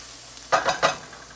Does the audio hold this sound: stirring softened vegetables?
yes